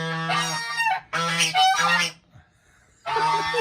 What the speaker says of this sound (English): I had no idea there were geese back there